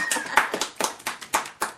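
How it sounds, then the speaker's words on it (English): About eight sparse, uneven claps ring out in a short burst of audience applause, fairly quiet and dry with small gaps between them. "Give a big round of applause."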